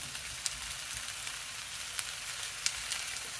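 Tomatoes go into a hot frying pan for a creamy tomato and pepper tagliatelle and sizzle in a steady, soft crackle, with a few sharp pops now and then.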